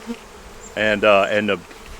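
A honeybee at a beehive gives a single close, wavering buzz that swells and dips for under a second, then fades, leaving a quiet background.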